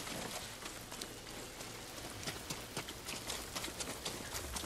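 Heavy rain in Ghost of Tsushima pours as a dense, continuous hiss, with scattered sharper patter and thuds like hooves or footfalls underneath, loud and unbroken throughout.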